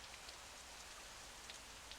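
Steady rain falling and pattering on a surface, a dense even hiss with scattered louder drops, close and continuous with no voices.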